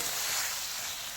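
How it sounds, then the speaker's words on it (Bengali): Fried potatoes and prawns sizzle hard in spice paste for a prawn curry, a dense, steady hiss with light stirring, close and without any talk. "ভেজে রাখা আলু আর মাছটা ঢেলে দিলাম"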